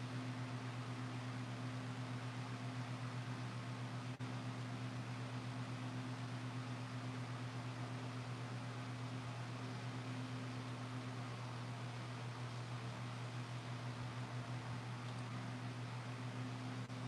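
A mechanical fan runs steadily nearby, producing a constant low hum with a breezy whoosh over it that holds even and unbroken throughout, with no one talking.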